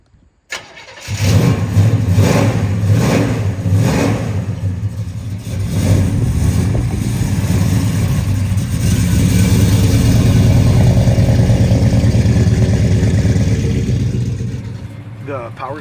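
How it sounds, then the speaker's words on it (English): A Chevrolet Chevelle classic car engine runs loud and steady while driving, with rising revs early on and a sustained rumble throughout, as people talk over it inside the car. "let's drive that Chevelle"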